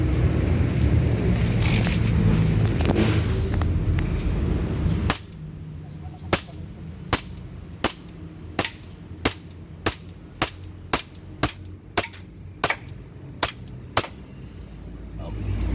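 CZ Shadow 2 airsoft pistol fired repeatedly, about a dozen sharp, loud snapping shots at a steady pace after a stretch of louder background noise, quiet gaps between each report.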